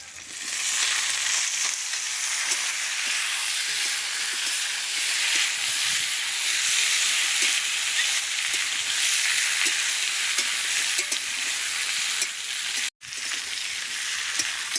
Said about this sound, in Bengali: বেশ করে একটু নেড়ে চেড়ে নিয়েছি